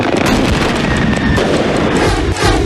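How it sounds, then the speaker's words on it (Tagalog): Confiscated illegal firecrackers burning at Camp Karingal in Quezon City, going off as a dense, continuous crackle of pops and bursts with a steady roar beneath, loud and unbroken throughout. "nayanig ng sunugin ang mga nakumpiskang iligal na paputok"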